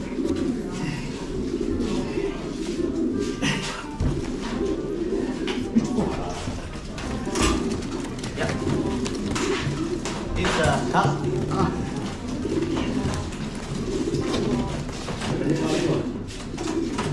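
Racing pigeons in a loft coo continuously in low, throaty pulses close by, mixed with wing flutters and light thumps while people talk nearby.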